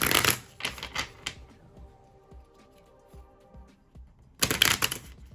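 Tarot cards being shuffled, bursts of rapid riffling flutter at the start and again near the end, with quieter soft taps and card handling in between, close and crisp.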